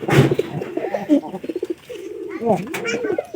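Pigeons in a pigeon loft, close throaty cooing and burbling calls in bursts across the whole span.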